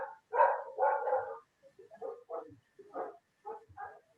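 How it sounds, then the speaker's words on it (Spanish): Several dogs bark in irregular bursts, at first in a couple of long, loud runs, then in shorter, quieter barks spaced further apart, somewhat distant and with no talking over them. "Se escucha que los perros están ladrando."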